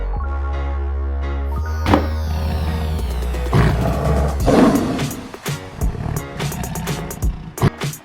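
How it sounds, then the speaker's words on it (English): Lion roaring, a deep rumbling roar building into several loud grunting bursts over a steady low drone, close and without talking. "Lion."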